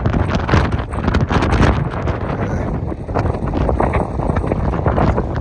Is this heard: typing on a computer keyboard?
no